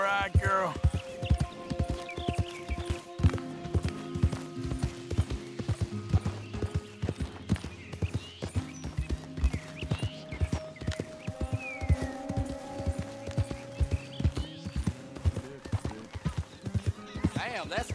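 Horse hooves clip-clopping at a steady walking pace in Red Dead Redemption 2, with tack jingles and a faint whinny under a musical score, as a character talks to the horse and to another man.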